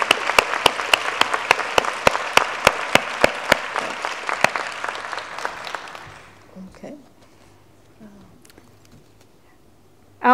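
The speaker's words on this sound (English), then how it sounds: "if we could give our panel a big round of applause" An audience at a nurse researcher hall of fame event in Dublin, Ireland applauds its panel, steady clapping filling the room for about six seconds before fading to quiet room tone, with a strong tap near the end.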